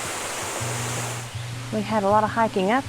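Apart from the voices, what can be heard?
waterfall at Bushkill Falls, Pennsylvania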